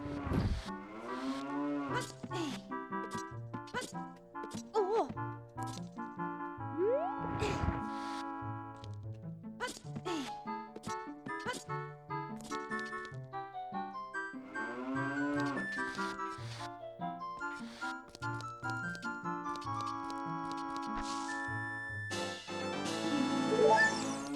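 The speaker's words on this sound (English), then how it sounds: "Oh, shut it, cow." Cattle mooing from a cow in the Nintendo 64 game The Legend of Zelda: Ocarina of Time (25th anniversary v1.0, real hardware), repeated lowing calls over steady game music with harmonic tones throughout.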